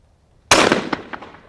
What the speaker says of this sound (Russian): Сейчас будем стрелять угонную мишень